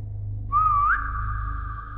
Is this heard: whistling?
yes